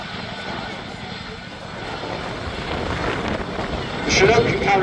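An RAF Chinook HC.6 helicopter flies a role demo at the Duxford Summer Air Show, producing a broad, distant rumbling roar that swells toward the end, with wind buffeting the microphone.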